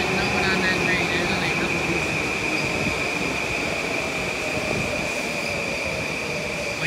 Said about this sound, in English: New Haven train arriving at Fairfield Metro on track number 4